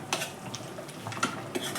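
Tomatoes frying in a pan for a chicken recipe are stirred with a utensil, giving a few light scraping and clinking strokes over a soft sizzle, close and fairly quiet.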